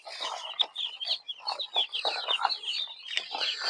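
Many young chicks in a poultry house cheep continuously, with overlapping high, rapid peeps close by and some faint clucking and rustling underneath.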